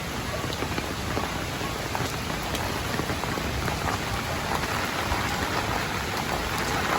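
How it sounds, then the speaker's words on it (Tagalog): Heavy typhoon rain in the Philippines pours steadily, a dense, even hiss of drops drumming on surfaces with no pauses. "malakas yung ulan"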